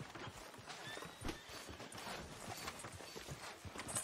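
Horse hooves clip-clop in a steady walking rhythm on a street in Red Dead Redemption 2, fairly quiet, with a brief neigh and soft ambient sounds around them.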